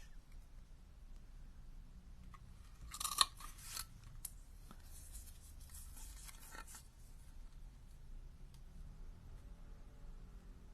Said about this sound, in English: if you don't have a punch, you can just trim it with your scissors